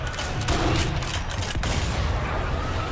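Rifle shots ring out in the sniper shooter Sniper Elite V2 Remastered, a quick cluster of sharp, loud cracks early on, then a rumbling wash of noise that trails off.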